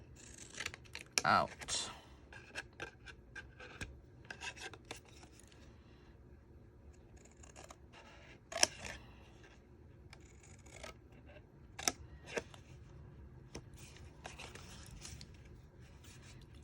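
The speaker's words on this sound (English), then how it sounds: "we're gonna cut the score line" Scissors snip through Stampin' Up! cardstock along a score line while making a Cadbury Creme Egg box, with a few sharp cutting bursts among quiet rustles and a brief spoken word.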